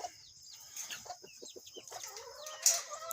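Backyard chickens cluck in short, soft bursts close by, with one sharper squawk near the end and no talking.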